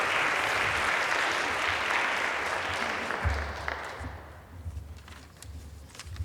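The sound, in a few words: audience applause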